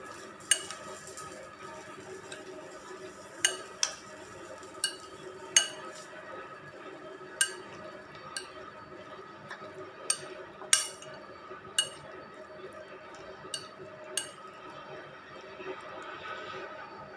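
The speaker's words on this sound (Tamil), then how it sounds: "நம்ம டெம்பரிங் பண்ணி வச்சுருக்கிறத வெள்ளரிக்காவோட சேர்த்துட்டு இதை நல்லா மிக்ஸ் பண்ணிக்கலாம்" Cucumber salad being mixed with tempered spices in a bowl, with a steady series of sharp clinks and taps of a spoon against the dish over soft stirring, spaced irregularly and close up, with no talking.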